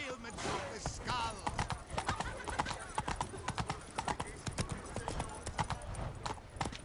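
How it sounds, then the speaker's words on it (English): Hoofbeats of a galloping horse in the video game Witcher 3, rapid rhythmic clip-clops running throughout amid game ambience, with voices speaking and a brief whinny. "Run, Roach"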